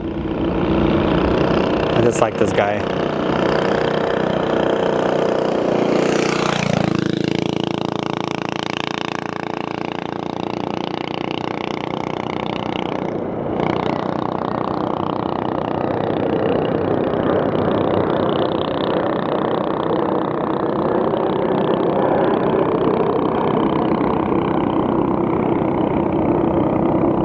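A motorcycle runs near Phoenix Sky Harbor Airport, its engine loud and steady with a rising rev partway through and a lower rumble after, while someone talks over it.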